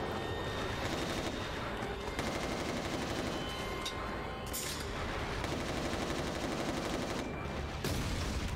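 Sustained gunfire from the video game Resistance Retribution, dense continuous bursts of shots with a few sharper cracks standing out, loud and steady throughout with no talking.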